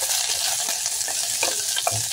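Vegetables with pork belly frying and sizzling steadily in a hot pan while being stirred, with scraping stir strokes over a continuous close hiss, no talking.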